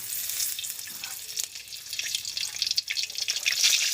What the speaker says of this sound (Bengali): কড়াইতে দিয়ে দিচ্ছি তেল